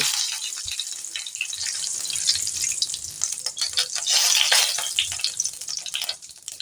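Bay leaf halves and white cumin seeds sizzle and crackle in hot oil, a steady close frying hiss with small pops that swells and fades without speech.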